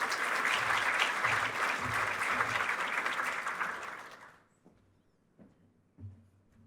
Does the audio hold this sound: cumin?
no